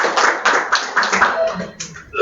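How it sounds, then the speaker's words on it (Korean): At a public forum on extending the Wirye-Sinsa rail line to Hanam, a modest crowd claps to welcome a city council member. The short, rhythmic round of claps comes close and fades out quickly. "큰 박수로 맞이해주시면 감사하겠습니다."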